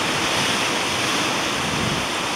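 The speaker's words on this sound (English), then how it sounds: "Blowing a hoolie at the moment here" Strong wind roars across open water on the Great Glen canoe route. A dense, constant gusting rush of air batters the microphone and mixes with lapping waves. It sounds loud and close, and no one speaks.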